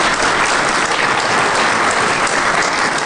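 A DEFCON 18 conference audience applauds after a live SCADA exploit demo, a loud, dense and steady burst of clapping from a large crowd that lasts the full three seconds with no voices over it.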